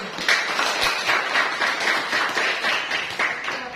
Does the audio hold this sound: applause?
yes